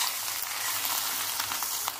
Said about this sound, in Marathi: ही पेस्ट छान तेल सुटेपर्यंत आपल्याला भाजून घ्यायची आहे।